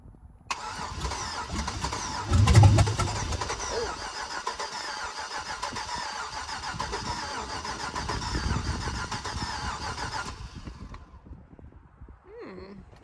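A Chevrolet Suburban, an all-wheel-drive donor for a Trans Am, cranks briefly and fires for its first start, a loud close catch followed by a long rough idle that cuts off near the end.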